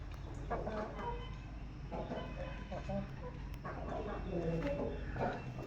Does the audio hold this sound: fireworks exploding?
no